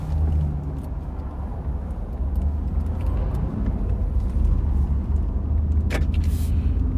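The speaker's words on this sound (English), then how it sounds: "look at all these cars coming." Cars roll past through the desert town of Quartzsite, a steady close road rumble with tire hiss that swells and eases as vehicles go by, plus a brief higher squeal near the end.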